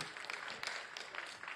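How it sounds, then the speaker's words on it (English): Audience applause for the President, Bola Ahmed Tinubu, at the ANPMP Lagos State annual general meeting and scientific conference, a steady but fairly faint patter of clapping that fills the short moment. "I expected an applause for our President"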